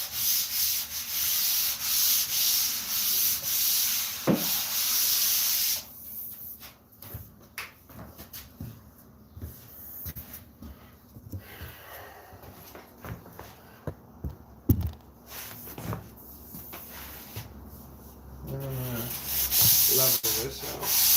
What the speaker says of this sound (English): I'm literally just like letting the sander rest in my hand.